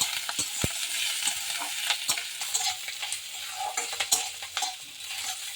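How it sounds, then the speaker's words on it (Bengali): Chopped ginger and green chilli sizzle steadily in oil in a pan, with repeated scraping clicks of a spatula stirring throughout. "একটু ভেজে নিচ্ছি"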